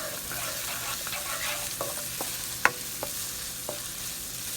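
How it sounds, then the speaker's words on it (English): Ingredients for a bolognese sauté in a pan with a steady low sizzle, broken by several spatula clicks and one sharper knock against the pan. "And just saute this."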